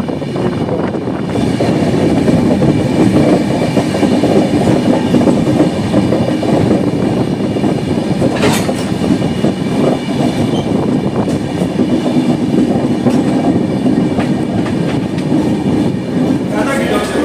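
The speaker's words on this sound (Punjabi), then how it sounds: "ਡਿਪਾਰਚਰ ਕਰਦੀ ਹੋਈ ਅੰਬਾਲਾ ਕੰਟ ਸਟੇਸ਼ਨ ਤੋਂ ਸੱਚਖੰਡ ਐਕਸਪ੍ਰੈਸ" The Sachkhand Express pulls out of Ambala Cantt railway station with a loud, steady rumble and rhythmic clickety-clack of wagons, broken by a brief sharp wheel squeal midway.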